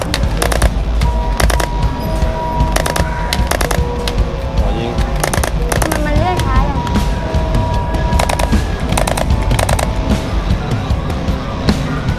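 Rapid bursts of electronic gunfire in repeated volleys, loud and close amid busy arcade noise and a few voices.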